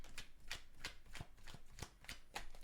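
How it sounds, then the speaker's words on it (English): Quiet, rhythmic riffles of tarot cards being shuffled, about eight quick bursts in a row, close and faint with no voices. "You see me shuffling, right?"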